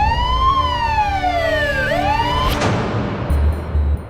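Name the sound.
ambulance siren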